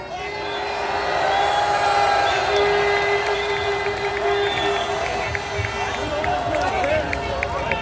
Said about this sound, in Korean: 다시 한번 함성과 박수로 받아주십시오